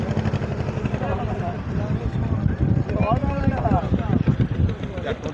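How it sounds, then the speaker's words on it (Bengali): A river ferry boat crossing from the far bank makes a steady low engine drone with wind noise, running continuously under nearby people talking. "চলে আসলো ওই পার থেকে ওই নৌকোটা। এটা হচ্ছে নৌকা।"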